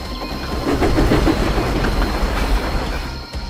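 A train rumbles steadily along the tracks, with dense clattering wheel noise and a low rolling drone and no voices.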